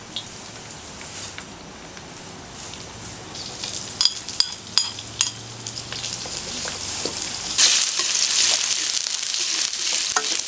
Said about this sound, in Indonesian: bawang putih tadi ya kita tumis sampai harum